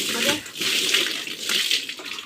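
Water is poured and splashes over a mat being washed, a close gushing flow that rises and dips in a few surges, with a voice talking alongside.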